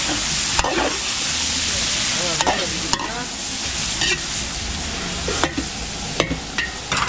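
Steady sizzling and frying hiss of pork belly, onions and chicken fills the clip, with occasional sharp scrapes and clinks of a utensil stirring in a pan.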